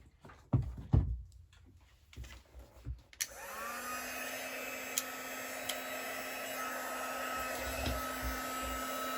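A handheld heat tool for stamping switches on after a few soft knocks and handling sounds, then blows with a steady whooshing roar and whine, close and continuous for several seconds.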